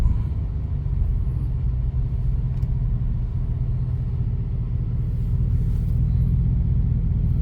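A pickup truck with a brand new engine idles steadily, producing a continuous low rumble that stays even and close throughout, with no talking.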